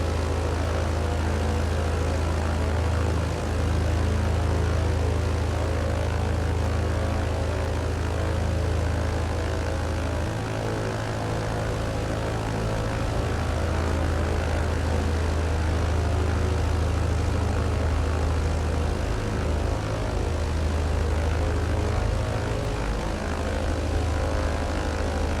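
Small propeller airplane taxiing on the ground, its piston engine droning at a steady, loud low pitch that runs unbroken and close throughout, with slight swells in level and no voices.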